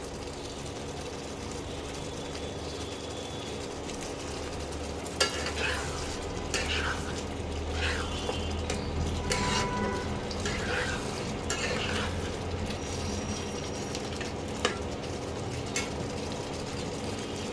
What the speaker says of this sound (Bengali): মাংসটা যতক্ষণ না তেল ছাড়বে ততক্ষণ মাংসটাকে কষাতে হবে।